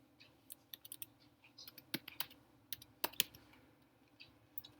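Computer keyboard typing in scattered bursts of crisp clicks, some keystrokes sharper and louder than others, close up with no talking over them.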